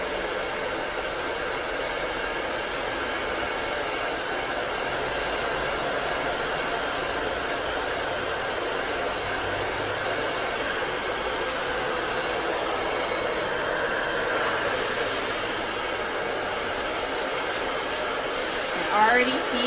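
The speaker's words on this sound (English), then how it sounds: "I'm gonna put my blow dryer on high and hot." A blow dryer runs on its high, hot setting during hair styling with a brush, a loud, steady, unbroken whoosh close by for the whole stretch.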